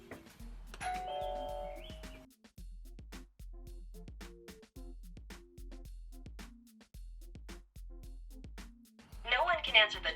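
A Nest Hello smart doorbell chime rings near the start, followed by steady electronic beeping or tones, with a brief burst of noise at the end.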